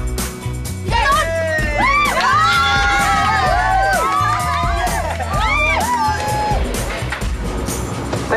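A Dublin concert crowd cheers and screams loudly throughout, with high excited shrieks and whoops rising above a dense wall of noise and a voice heard among them.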